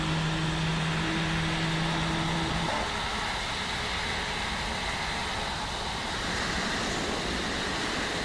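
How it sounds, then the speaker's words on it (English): FSLabs A321neo jet engine number 2 spooling up in a flight simulator, a steady broadband roar with tonal hums that fade after a few seconds, leaving a constant rushing whoosh and no talk. "All right, so good start on engine number 2."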